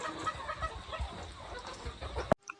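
Chickens cluck and murmur nearby in a steady, busy stream, with rustling in the background, ending abruptly in a sharp click.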